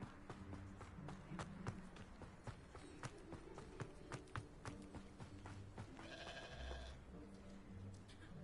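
Sheep bleating in the Hogwarts Legacy video game, a few repeated bleats over soft footsteps and ambient game sounds, with some faint tapping throughout.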